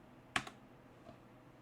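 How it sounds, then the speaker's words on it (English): Two or three quick, faint keystrokes tap on a computer keyboard in a quiet room, followed by a softer single press. "You got to trust your typing."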